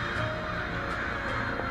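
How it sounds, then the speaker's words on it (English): Crows cawing in a horror dating game, a hoarse distant calling over a dense, droning ambient background with no speech. "I hear crows."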